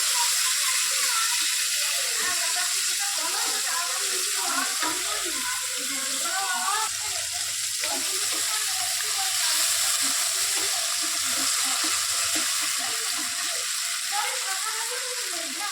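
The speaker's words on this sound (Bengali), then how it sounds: "চিংড়ি মাছটা এখন ভেজে নিয়ে" Shrimp frying in a pan, a dense, steady sizzle with crackling and popping that fills the whole stretch at an even, fairly loud level, with faint voices in the background.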